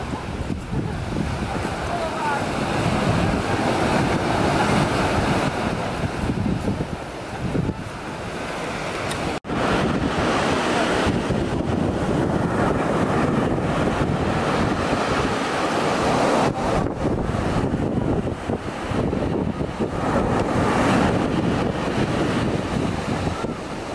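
Surf and gusting wind at a black pebble sand beach, a steady loud wash of breaking waves mixed with microphone wind buffeting throughout, no clear talk over it.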